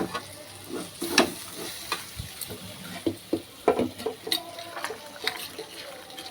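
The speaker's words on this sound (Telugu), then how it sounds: "మంచిగా తిప్పుకోవాలండి ఆయిల్ ఎక్కువ ఉంటుంది కాబట్టి పెద్ద ఇబ్బంది ఉండదు" Bitter gourd pieces for kakarakaya pulusu are stirred in plenty of hot oil in a pan, giving a steady sizzle broken by repeated scraping and clinking strokes of the spoon, close and moderately loud.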